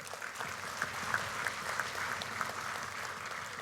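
Steady applause from a crowd at an UMNO party assembly during the president's speech, a dense wash of clapping that holds at an even level throughout.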